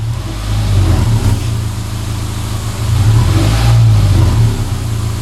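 A Subaru Impreza EJ25 engine with a Magnaflow exhaust idles and then revs gently to 1500 RPM, rising and falling in a steady mid-range drone, fairly close and loud.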